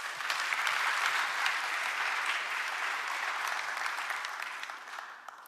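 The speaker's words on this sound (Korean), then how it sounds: "박수 부탁드립니다." A large crowd at a government policy report event applauds, sustained clapping from many hands heard from a distance, fairly soft and steady before slowly tapering.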